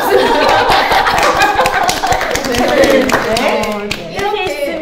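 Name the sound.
one person clapping hands alone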